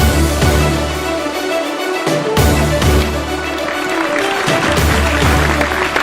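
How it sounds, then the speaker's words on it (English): An audience applauds steadily through a shawl presentation at a Singapore sports awards event, a continuous wash of many clapping hands filling the hall, with a few voices faintly heard beneath it. "A big round of applause, everyone."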